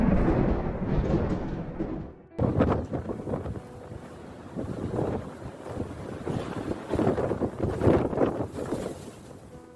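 Severe storm wind roaring through Cankiri, Turkey, during a storm that toppled a mosque minaret; loud, continuous buffeting gusts batter the microphone with surging rumble and no voices.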